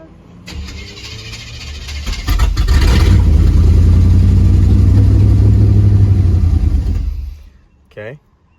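A Chevrolet K1500 pickup engine cranks, then catches and runs rough and loud at a flooded idle with its fuel pump unplugged, rumbling for several seconds before dying out, followed by a brief squeal.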